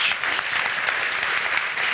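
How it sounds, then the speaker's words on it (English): Dense, steady applause from a conference audience welcoming guest speakers at a sustainability event, a continuous wash of many hands clapping at an even level for the full two seconds. "a round of applause"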